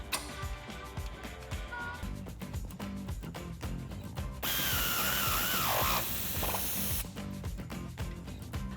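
A power tool with an 18mm socket drives a shock bolt home on a Jeep Wrangler JL 4-door with a Teraflex lift and VSS shocks. Fast rattling bursts run close and steady, broken by a loud stretch of airy hiss midway.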